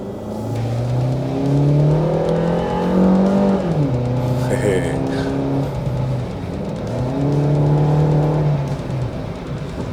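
A Suzuki Ertiga Hybrid 2022 engine, about 1400 cc, revs hard from a standstill, its pitch climbing, dropping at a gear change, then climbing again. It is loud and close.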